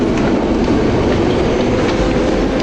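A London Underground Central line train rumbles loudly and steadily, heard from inside with constant roaring wheel noise and faint rhythmic rail clicks, no voices.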